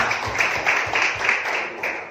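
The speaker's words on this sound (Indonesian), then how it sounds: "Tepuk tangan buat Tuhan Yesus." Congregation clapping in rhythm during a church worship service, steady rhythmic claps repeating about twice a second for a couple of seconds, moderately loud with a roomy wash behind them.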